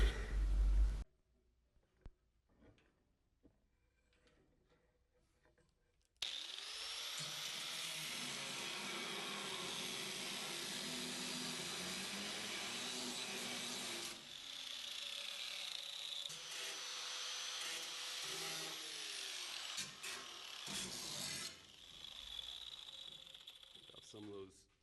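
A power tool cuts through steel truck door panels on C10 doors, a loud grinding screech running steadily after a few quiet clicks and handling noises, then shifting tone as the cut continues.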